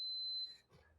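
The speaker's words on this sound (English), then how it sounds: "This fire alarm. That was my fire alarm." A smoke alarm gives one shrill electronic beep, loud and sustained for about half a second, then cuts off into quiet room noise.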